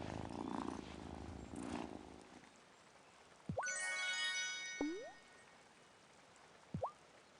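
A cat purrs steadily in the Wylde Flowers farming game on a rainy day, a close soft rumble for the first couple of seconds, followed by bright game chimes and swooping tones.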